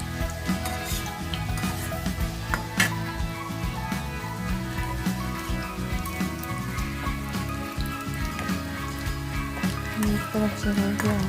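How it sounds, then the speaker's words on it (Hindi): Four samosas fry in oil over a medium flame, giving a steady, dense sizzle and crackle that runs unbroken, with a few sharper pops. "मीडियम फ्लेम पे ही इसे फ्राई करें।"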